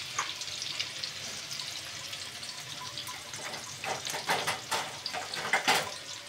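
Sliced onions frying with cumin seeds in hot oil, a steady close sizzle with crackling bursts that grow busier toward the end.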